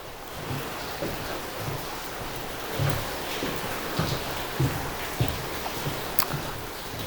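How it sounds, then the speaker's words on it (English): Rain drumming on a tin roof in early winter, a steady dense patter with soft low thumps recurring throughout, fairly close and unbroken by speech. "Water on a hot tin roof."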